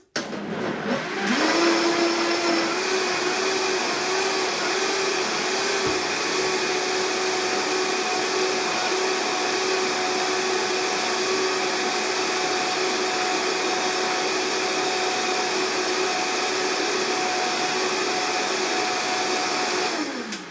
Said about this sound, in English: I'm going to blend it up, so bear with me with the noise.